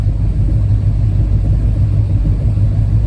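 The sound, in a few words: hot rod car engine idling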